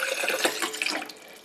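Cold Brita-filtered water poured from a cup into a cocktail mixer, a steady close splashing trickle that fades off near the end.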